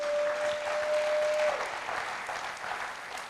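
Church congregation applauding together, a broad steady wash of clapping that fills the room for a few seconds and then eases off slightly.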